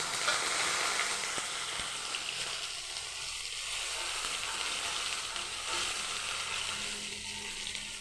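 Sliced potato frying with a little turmeric in a pan, a steady close hiss of hot oil with light bubbling and an occasional faint stir.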